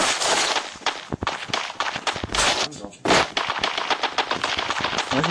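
Rapid SMG bursts in the battle royale game Free Fire, loud and dense, with repeated stuttering volleys filling the whole stretch and a faint voice underneath.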